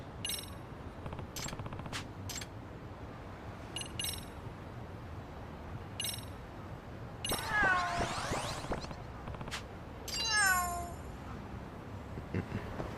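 A cat meows a few times in the video game Lost Judgment, short bright calls scattered among game sound effects and chimes, with no one speaking.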